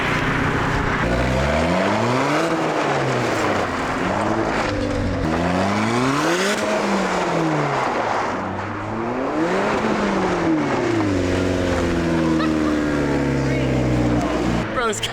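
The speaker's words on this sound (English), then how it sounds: "Wait, let me hit a little drift here real quick." A car engine revs hard through a drift, its pitch climbing and falling in repeated loud sweeps, with excited voices talking over it close by.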